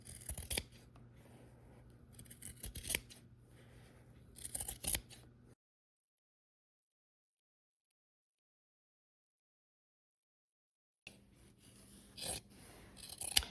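Scissors cut down the length of rag quilt fabric through the sewn pleats. Close, crisp snips come in short bursts, then a long stretch of silence, then more cutting near the end.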